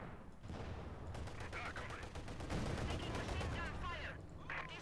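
Heavy machine gun fire in the video game Company of Heroes 2, rapid continuous bursts of rattling shots with distant battle explosions, fairly quiet in the mix, occasional voices faintly underneath.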